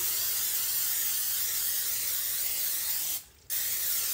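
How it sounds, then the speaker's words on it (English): A steady hiss of Pam cooking spray from an aerosol can onto a griddle, continuous for about three seconds before a brief pause, then resuming. "I'm going to spray my griddle with my Pam."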